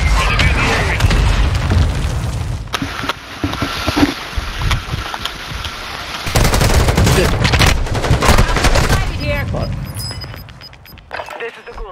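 Repeated mortar strike explosions boom out in the video game Warzone, heavy blasts and gunfire crackling through a dense, continuous battle mix with voices talking over it.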